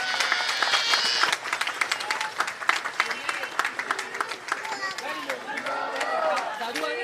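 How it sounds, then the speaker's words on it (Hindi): A crowd at an election campaign rally applauds to welcome a candidate, dense clapping that thins into scattered claps, with someone speaking over it into a loudspeaker. "एक बार सब ताली मार के उनका स्वागत करिए"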